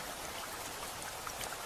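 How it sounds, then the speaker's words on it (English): Steady rainfall with close, fine patter of drops on a surface, a dense, even hiss holding constant throughout with no voices. "from behind it came the sound of rainfall."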